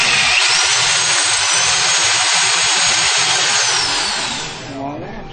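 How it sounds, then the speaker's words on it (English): A power drill whines steadily and loudly for several seconds, grinding through an Xbox 360 casing from outside to inside, then winds down toward the end. "And we drill."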